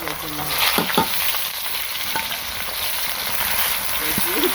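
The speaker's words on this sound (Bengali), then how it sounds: "এখন দিয়ে দিব পেঁয়াজ কুচি।" Chopped onions sizzle and fry in a pan at home, with a steady crackling hiss and a few stirring scrapes and clinks of the spatula close by.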